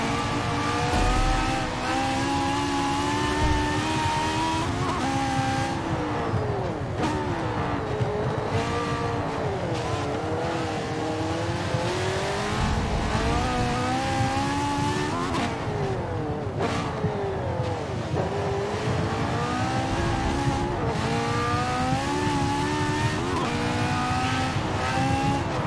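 Race cars in Forza Motorsport 7 rev hard and skid through corners, engines climbing and dropping in pitch with repeated tire squeal, loud and continuous throughout.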